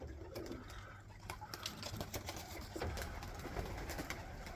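Young pigeons coo in a loft, soft repeated cooing mixed with wing flutters and scuffling in a busy, steady bed of bird noise.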